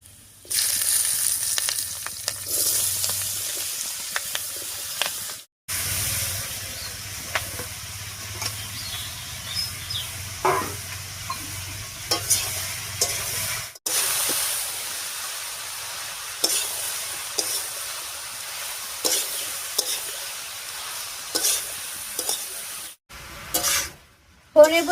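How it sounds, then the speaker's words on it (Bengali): Bottle gourd and green chillies are stirred into a spice tempering of bay leaf and crushed ginger, giving a sustained sizzle with scraping stirs and occasional spatters, close and loud. A brief voice is heard. "ফোড়নটা ভাজা হয়ে গেছে, এবার এর উপরে দেবো চিড়ে রাখা কাঁচা লঙ্কা আর লাউটা।"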